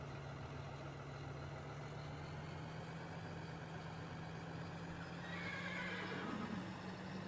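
Horses neigh in the farming game Farming Simulator 2013, the whinnies rising near the end over a steady low engine drone, with no one talking.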